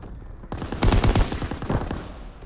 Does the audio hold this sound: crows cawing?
no